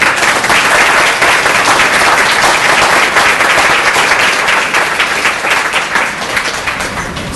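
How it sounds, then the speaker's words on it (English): Guests at a Martin Luther King Week unity luncheon give loud, sustained applause, a dense crowd of clapping hands that stays strong for several seconds and then gradually fades. "would you give all of them a round of applause?"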